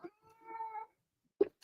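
An indoor cat meows to be let in, giving one drawn-out plaintive cry followed by a short sharp chirp. It sounds fairly near, in a quiet room with no talking.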